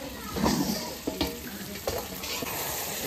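Meat sizzles and fries while being stirred and sautéed in a pot during an outdoor family picnic cookout, a steady hissing crackle broken by occasional scrapes and clinks of the spoon.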